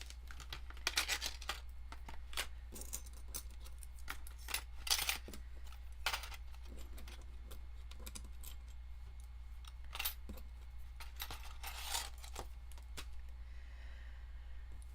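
Small metal cutting dies for card-making are handled and slipped into a paper envelope, giving scattered light metallic clicks and rustling taps at close range over a steady low hum.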